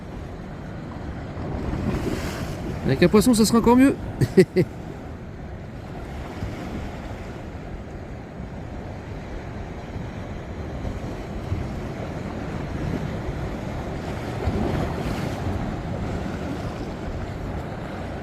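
Wind and breaking waves along the Morbihan peninsula coast in spring, heard from a shore fishing spot: a steady surf wash and wind rumble, with a louder burst of splashing and gusts partway through and brief speech.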